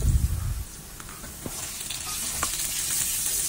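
Garlic, then onions, sautéing in a pan, giving a steady close sizzle with a few soft stirring scrapes and no voices.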